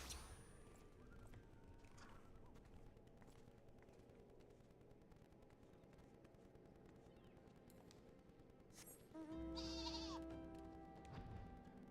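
Sheep bleating in Final Fantasy XIV, a single clear bleat near the end over steady in-game ambience and background music, with no talk.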